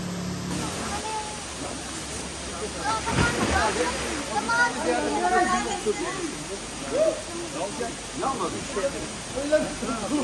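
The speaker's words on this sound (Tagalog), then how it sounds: "Galing sa falls yung tubig na yan, kaya malamig." Water from a waterfall at Aplayamunti, Puerto Galera, flows as a constant broad rush throughout, with people talking over it.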